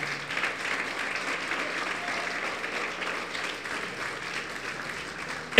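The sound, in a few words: congregation applause for Jesus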